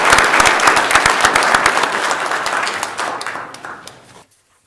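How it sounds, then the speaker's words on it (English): Applause in the Senate chamber for a visiting chief justice, a dense steady wash of many hands clapping at close range that thins and stops abruptly. "Please give him a nice round of applause."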